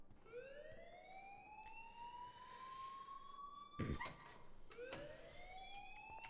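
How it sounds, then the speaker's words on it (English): A school alarm in the game Life Is Strange wails with a rising siren tone that sweeps up, breaks off after a sharp thump, then starts rising again, loud against the room. "Leave Miss Caulfield alone and please turn off that alarm since that's your job."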